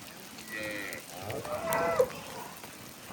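A Cholistani Friesian cow on a Pakistani dairy farm gives a drawn-out moo of moderate loudness, rising to a peak midway, over quiet farmyard background.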